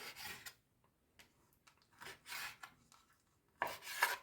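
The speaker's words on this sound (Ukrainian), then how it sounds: "Печінку наріжу на шматочки" A knife chops raw liver into small pieces on a board for chopped liver patties, giving soft, quiet, rasping cuts in short irregular bursts, close and without voices.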